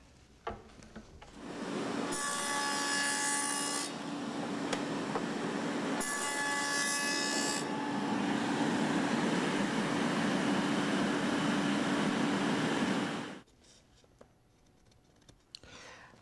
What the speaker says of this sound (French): À l'aide de la lame à rainurée, j'ai fait mon épaisseur de tenon